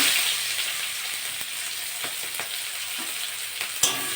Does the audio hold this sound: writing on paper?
no